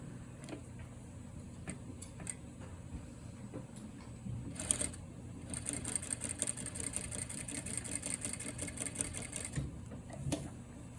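A quiet sewing machine stitches a princess seam toward the armhole with a long stitch, first a few isolated clicks, then a fast ticking run of needle strokes for several seconds before it stops.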